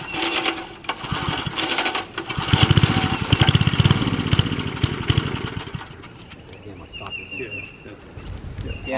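Old gasoline engine that sat unstarted for 15 to 20 years, with its fuel plugged up by sediment, chugging in a rapid, uneven rattle. It runs loud and close, then falters and drops to a weaker, sputtering idle.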